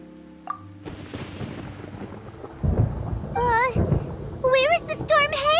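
Thunder rumbles in a stormy scene from the Genshin Impact video game, a deep low boom building under rain-like noise, with character voices speaking over the later part.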